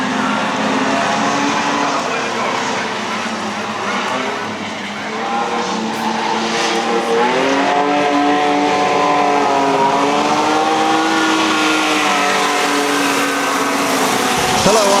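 Sprint cars race at Ellenbrook Speedway, their engines roaring loud and continuous as pitch rises and falls through the laps, with tyre noise and overlapping cars and no break in the din.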